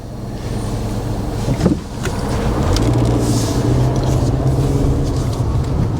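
A car drives along Main Street in Pound, Virginia, its steady engine hum and road rumble heard from inside, continuous and fairly loud, with a brief bump partway through and no talking.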